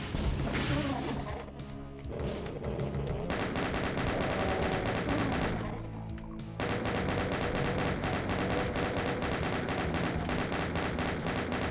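Dense, relentless rapid-fire clatter of a chaingunner in Doom fills the scene almost continuously, with two brief dips, alongside other loud crashing game effects and a busy, layered background.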